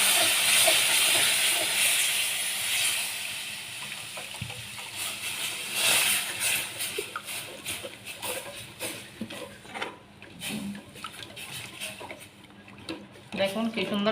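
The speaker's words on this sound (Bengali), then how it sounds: "আধা কেজি পরিমাণ দুধ দিয়ে দিচ্ছি" Half a kilo of milk is poured into hot caramel in a pan, giving a loud steady hiss that fades into bubbling and spoon clatter. A voice talks over it.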